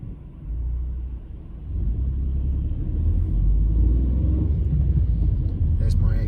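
A car cruising on the M2 motorway, a steady deep road and engine rumble that swells louder partway through as traffic passes close by.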